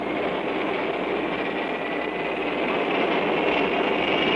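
A Lockheed Electra turboprop engine starting with a ground start cart gives a steady, loud, broad whining roar with a high-pitched hiss that holds throughout and builds slightly, with no talking.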